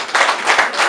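An audience claps in a steady, dense wash of applause that swells in several waves over one second, close and fairly loud, with no voices.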